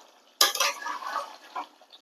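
A metal spoon stirs mutton curry in a cooking pot, opening with a sharp clang and then a close run of scraping, clattering strokes with no talk.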